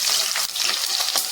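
Whole spices such as cinnamon, cloves, fennel and cardamom frying with onion and green chillies in oil and ghee for chicken biryani, giving a loud, steady dense sizzle with a few brief bursts, no voices.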